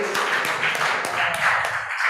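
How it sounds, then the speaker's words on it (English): Audience applause for a student's speech at a school event: a steady, dense patter of many hands clapping, sustained throughout with no voices. "Let's give her a round of applause"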